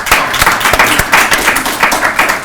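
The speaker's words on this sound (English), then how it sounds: "giving a big hand of applause to both of these gentlemen" An audience at an annual general meeting gives two men a loud round of applause. The dense, close clapping is sustained for the whole stretch.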